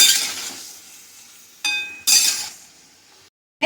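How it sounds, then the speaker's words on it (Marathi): Mushrooms stir-fried in a pan without water sizzle loudly as a utensil scrapes and clinks against the pan in a few close bursts, with quieter sizzling between and a brief silence near the end. "परतून घेऊया पाणी न घालता परतून घेऊया"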